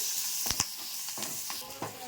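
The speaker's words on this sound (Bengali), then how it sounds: "পেঁয়াজ কুচিয়ে রাখা ওটা আর কাঁচা লঙ্কা কুচিয়ে চিড়ে রাখা ওগুলো একেবারে তেলের মধ্যে দিয়ে দেওয়া হলো" Chopped onion and slit green chillies sizzle in hot oil while being stirred for a fish curry, a constant hissing fry punctuated by several crisp spatula knocks.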